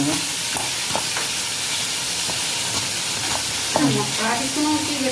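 Mrigal fish frying in a pan with a steady sizzle and hiss throughout, broken by a few stirring scrapes and a brief voice near the end.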